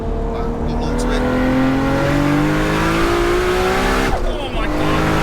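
A 1000 bhp Toyota Supra pulls hard from a rolling launch, its engine note climbing steadily through the gear before a sharp shift near the end, loud and close inside the cabin, with talking over it.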